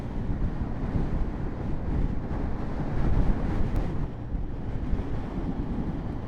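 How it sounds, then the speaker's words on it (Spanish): Strong wind roars steadily across the microphone during a motorcycle ride on a light bike near the US–Mexico border, a dense continuous low rumble with slight gusting swells and no talk. "Qué feo viento, ¿eh?"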